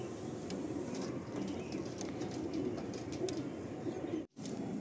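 Pigeons in a loft cooing and calling steadily across a dense, busy background of flock noise, with one brief dropout near the end.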